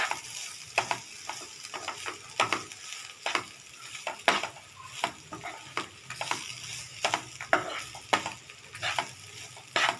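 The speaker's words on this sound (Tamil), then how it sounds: "இப்போ தேங்காய் துருவலை போட்டு கிளறிட்டு இறக்க போகிறோம்" Grated coconut is stirred into a beetroot and carrot chutney in a pan, with repeated spoon scrapes and taps over a soft, low sizzle, at a fairly quiet level.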